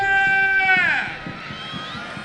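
A stadium crowd at a veterans' football match between Estonian legends and Zenit 1984 legends lets out a loud, sustained shout that sweeps downward and fades into scattered, fainter noise and stamping.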